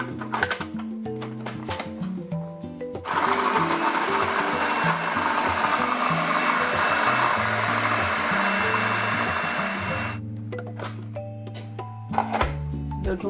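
A blender purees melon into a smooth cream, with a loud steady whir for about seven seconds, bracketed by clunks and handling noises before and after.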